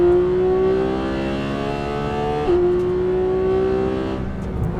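A Porsche 911 GT3 flat-six pulls hard in second gear, its loud, rising wail climbing steadily, dipping briefly at a shift or lift around midway, then building again, close and alone.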